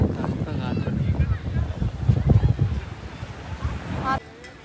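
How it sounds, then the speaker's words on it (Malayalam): Cold wind buffets the microphone on Kollam beach with a deep, blustery rumble and gusty surges, surf faintly beneath, while people talk over it. "നല്ല തണുത്ത കാറ്റുണ്ട്."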